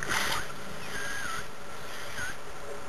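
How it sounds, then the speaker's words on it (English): A Märklin 4097 toy steam engine in a workshop gives two short, faint whistle toots over a continuous steam hiss. "just check the whistle"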